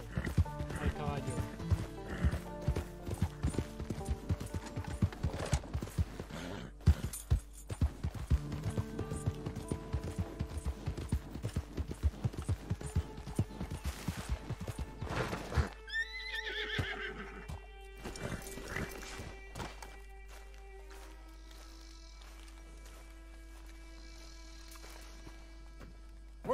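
Horses in the video game Red Dead Redemption 2, clip-clop hooves and a neigh amid busy game sound with voices talking, then quieter ambient tones.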